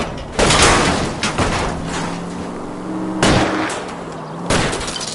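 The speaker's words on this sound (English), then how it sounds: "I'll try to shoot out his tires." Gunshots aimed at a fleeing car's tires in a driving video game: three sharp, loud reports spaced over a few seconds, each standing out above a steady engine drone.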